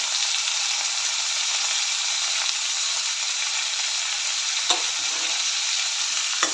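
Curry leaves, onion and tomato with salt sautéing in a pan, making a loud, steady, close hiss of frying with a couple of faint knocks from stirring.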